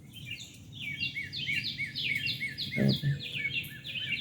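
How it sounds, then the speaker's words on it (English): Several songbirds sing and chirp outdoors on a Sunday morning after rain, with repeated bright phrases layered continuously and moderately near, over a low background rumble; a single short spoken word breaks in briefly. "Listen to the birds."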